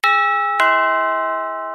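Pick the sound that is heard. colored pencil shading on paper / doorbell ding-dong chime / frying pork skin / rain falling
doorbell ding-dong chime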